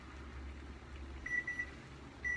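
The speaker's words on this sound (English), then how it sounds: "that's the timer" A kitchen timer gives a few short, high electronic beeps in two brief bursts over a low room hum, fairly quiet and with no talking.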